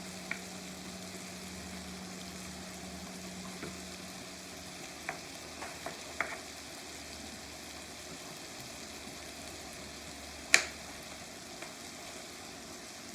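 Corn fries and sizzles steadily in a pan, with a few soft scraping stirs and clinks of a utensil now and then, close and quiet, no talking.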